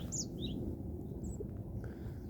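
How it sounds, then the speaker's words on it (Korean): Faint mountain birds chirp in short, scattered calls over a steady low outdoor rumble on a hiking trail, with no one talking. "아주 산새들이 지저귀고 있고 멋진 곳이야."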